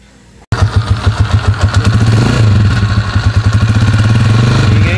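An overhauled motorcycle engine starts abruptly and runs close and loud, its rapid pulsing exhaust thumping steadily with a brief rev in the middle, no talk over it.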